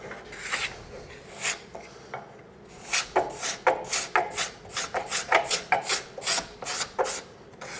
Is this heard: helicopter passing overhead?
no